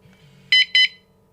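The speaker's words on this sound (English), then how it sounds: "wait for the single beep to confirm it's now it's in motion detection mode" Two short, loud, piercing electronic beeps from a kayak lock alarm when arming motion detection, close and shrill over a faint low hum.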